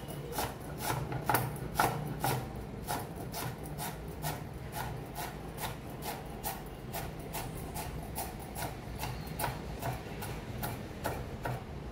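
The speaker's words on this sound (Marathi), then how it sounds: "कोथिंबीर बारीक चिरून घेऊया।" A knife chops fresh coriander leaves finely on a board for Maharashtrian thalipeeth, giving a quick, steady run of crisp, close taps with a soft rasp, loud and alone.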